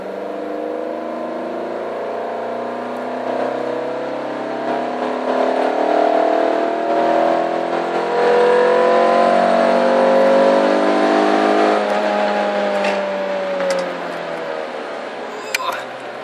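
A Renault Clio RS pulling hard in third gear toward 130, its engine note rising steadily in a loud, continuous whine heard from inside the cabin, with a faint voice briefly audible near the end.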